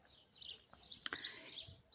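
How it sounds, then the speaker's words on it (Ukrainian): Sparrows chirp in short, bright bursts on a spring morning outdoors, a few quick calls that sound somewhat distant and soft against quiet background noise. "От горобці співають."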